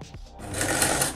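A sewing machine stitches a protective fabric face mask, starting up after a brief pause into a short, close, even run of fast mechanical whirring.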